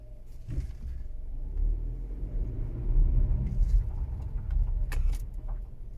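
A car with a faulty digital speedometer drives along, giving a steady low interior rumble of engine and road noise with a few light clicks and rattles and no talking.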